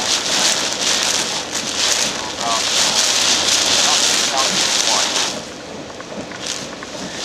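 Steady heavy rain from Tropical Storm Isaac in Fort Lauderdale pours down in a dense, continuous hiss, with drops drumming on surfaces close by and no pauses throughout.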